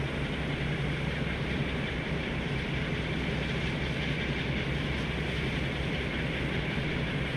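A diesel locomotive in Train Sim World 2 rumbles steadily, a constant low engine drone with broadband mechanical noise and no change in level throughout.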